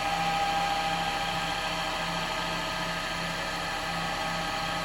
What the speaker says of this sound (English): we're going to use, just going to come in with a 3/8 bowl gouge first off